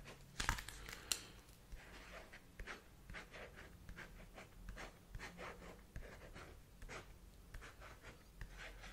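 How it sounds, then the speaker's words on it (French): A pen scratches numbers onto paper close up and quiet, in short bursts of faint scribbling strokes with little pauses between them and a sharp tap near the start, no speech. "Donc, j'écris les numéros."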